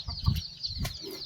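Chickens on a farm clucking in short bursts, close and moderately loud, with a few overlapping calls over a faint background.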